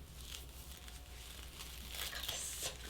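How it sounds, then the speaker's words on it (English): Scissors snip loose sewing threads on a freshly sewn fabric piece: a few short, crisp cuts mixed with soft crinkling and rustling as the material is handled, close and fairly quiet, with a low steady hum underneath and no talking. "I need to cut my little strings that I have"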